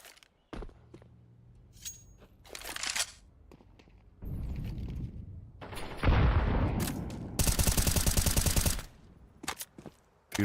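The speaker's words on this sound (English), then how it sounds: "Few shots through the plywood to make sure." Bursts of automatic gunfire and single shots crack through plywood in Counter-Strike, loud and close in rapid rattling volleys separated by brief gaps.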